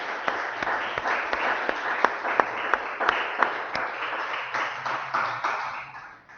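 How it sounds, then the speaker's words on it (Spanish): A church congregation applauds during a Sunday morning service, a steady wash of many hands clapping with sharp individual claps popping out, holding at moderate loudness before tapering slightly toward the end. "Damos un aplauso al Espíritu de Dios en esta mañana."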